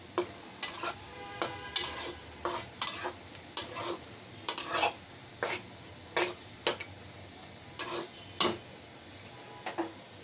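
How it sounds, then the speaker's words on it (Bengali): A spoon scrapes and stirs rice cooking in a pot, giving a dozen or so short, sharp clinks and scrapes in an irregular rhythm, close and clear, with a faint simmer underneath and no talking. "এদিকে একটু নাড়া দিয়ে দিই ভাতটা"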